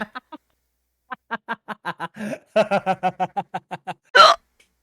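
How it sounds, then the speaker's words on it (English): Someone has a run of hiccups, short clipped voiced bursts repeating in quick succession, some closer together, close and clear, ending with a louder breathy burst. "I have the hiccups."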